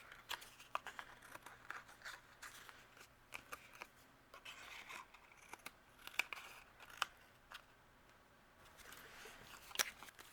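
Scissors snip away excess paper leaves from a handmade Valentine card, a run of quiet, crisp, close cuts and rustles at an uneven pace.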